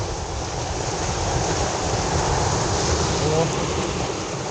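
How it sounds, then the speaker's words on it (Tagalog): Strong surf at Baseco, Manila, where anglers fish from the shore, a loud, continuous wash of crashing water with no distinct breaks, close and steady throughout. "Grabe, lakas ng alon."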